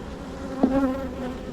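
Bees hum at an opened hive during an inspection, with a steady low buzz close by and one bee briefly droning louder as it passes near.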